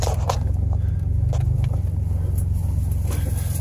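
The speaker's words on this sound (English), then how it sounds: "Oh crap, that's a derby car." A demolition derby car's engine rumbles low and steady with a deep, continuous drone. Faint scrapes and knocks sound over it.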